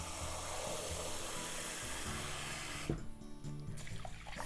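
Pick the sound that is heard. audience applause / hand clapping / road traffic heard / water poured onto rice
water poured onto rice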